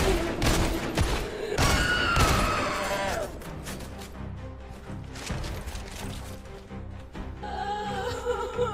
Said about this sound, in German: Schieße ich auf jemanden, der mir nichts tut.